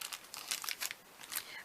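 Package of adhesive scored paper strips, straight and wavy scores in gloss and matte finish, being opened by hand: close, quiet bursts of crinkling and crumpling plastic wrapping with brief tearing, irregular and alone.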